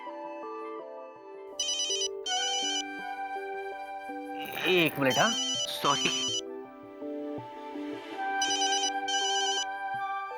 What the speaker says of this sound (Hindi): अरे माँ का फोन है।